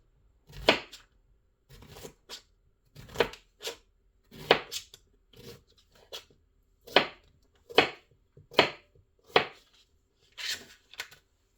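Squash is chopped with a knife on a cutting board for a casserole, a run of close, crisp cuts in irregular clusters with short pauses between them.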